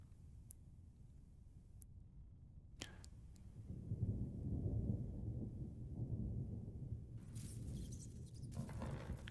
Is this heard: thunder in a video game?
yes